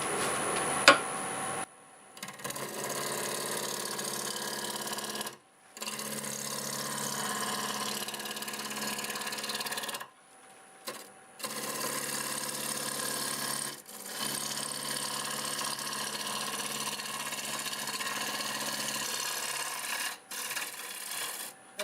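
Wood lathe turning a pear wood blank with a knot at about 1000 RPM, a steady mid-pitched motor whir with rubbing and scraping overtones that drops out briefly several times, with no talking.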